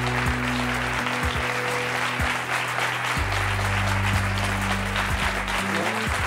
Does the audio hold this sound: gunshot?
no